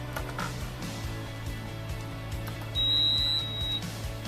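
An excavator's warning buzzer sounds steadily for about a second as the ignition key is turned, over a rhythmic low mechanical thump.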